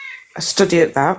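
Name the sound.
cat meowing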